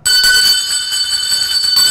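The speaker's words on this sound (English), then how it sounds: "Ring the bell. We got the winner." A bright bell rings continuously, loud and close, with sustained metallic tones and slight repeated pulses, announcing a winner.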